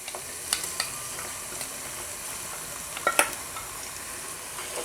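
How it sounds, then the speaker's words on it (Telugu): Ginger garlic paste frying in a pan for gongura sorrel chicken, a soft steady sizzle with occasional spoon scrapes and clinks from stirring. "ఈ అల్లం వెల్లుల్లి పేస్ట్ మనకు పచ్చివాసన పోయేంత వరకు మనం వచ్చేసి ఫ్రై చేసుకోవాలి."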